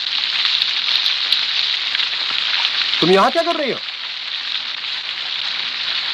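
Steady rain pours as a dense, loud hiss through the whole scene, with a voice speaking briefly over it.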